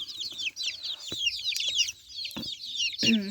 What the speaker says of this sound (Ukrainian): І півники, і курочки є.